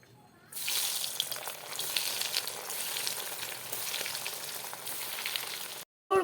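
Coated chicken cheese balls deep-fry in hot oil with a steady, close, loud sizzle that runs unbroken until it cuts off briefly near the end.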